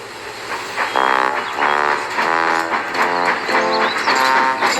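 A cartoon steam engine puffs along in an animated train show, with a loud, rhythmic chuffing that repeats about once a second over a low steady hum.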